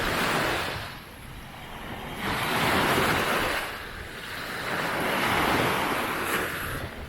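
Surf rolls onto a rubbish-strewn beach shoreline in slow, swelling washes, each wave building and fading in turn, with wind buffeting the microphone throughout and no voices.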